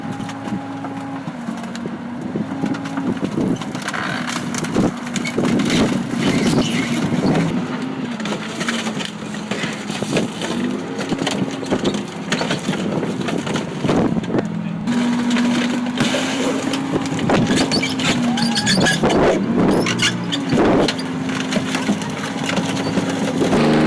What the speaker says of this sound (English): Let's go crush a car.